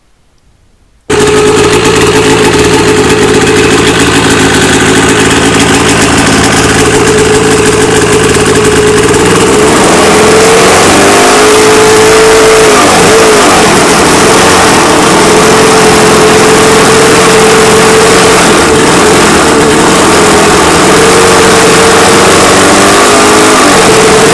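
A freshly balanced and blueprinted snowmobile engine, running loud and close after a short silence, holding a steady buzzing idle that rises and wavers in the middle and then settles back to an even drone.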